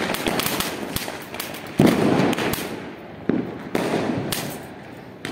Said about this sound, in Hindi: जला के वहां पटाखा